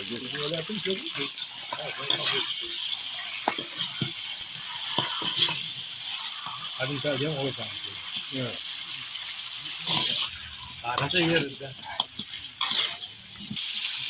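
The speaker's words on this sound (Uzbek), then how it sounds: "Yaxshilab go'sht qovurdik." Meat sizzles in hot oil for kavurma shurva, an Uzbek soup, with a bright, steady frying hiss and scraping stir strokes, while voices talk over it at intervals.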